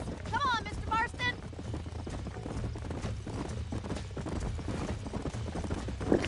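Horses' hooves clip-clop steadily in the Red Dead Redemption video game, a rhythmic trotting patter under game music and a voice talking, with a brief neigh early on.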